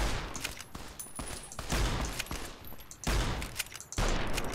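Gunfire from a new gun in the video game Fallout New Vegas, a rapid series of close, loud shots in quick bursts with no speech.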